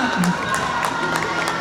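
Kindergarten children at an indoor event for a rescue-hero exhibition cheer and clap, a short burst of crowd noise with scattered applause and high shouts, with a host's voice briefly over it.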